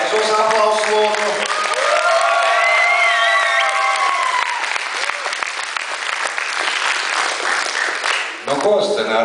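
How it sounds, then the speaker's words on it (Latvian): Loud audience applause with some cheering at a film and art festival's closing ceremony, a continuous wash of clapping that thins toward the end, with a speaking voice over it at the start and close. "Pareizos aplausu lūdzu."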